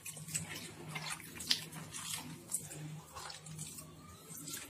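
Water squeezed by hand out of chopped bitter gourd, a soft wet trickling and dripping with small splashes, close and fairly quiet, steady over several seconds with no talk.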